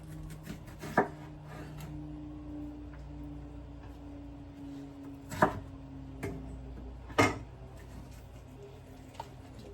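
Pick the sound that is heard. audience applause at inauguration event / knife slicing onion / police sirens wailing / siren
knife slicing onion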